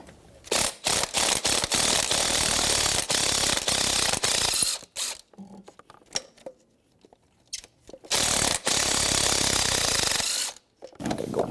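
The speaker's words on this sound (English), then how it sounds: "10mm socket, and I like to go from the center back and forth all the way to the outside." A ratchet with a 10mm socket works loose the exhaust manifold bolts on a 1997-2006 Jeep Wrangler 2.4L four-cylinder, giving loud, close, rapid clicking in long bursts separated by short pauses.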